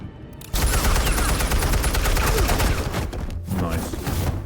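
Gunfire in the Telltale Batman video game, a dense burst of shots over a loud, sustained scene with shouting voices underneath. The firing continues for several seconds, then briefly eases before picking up again.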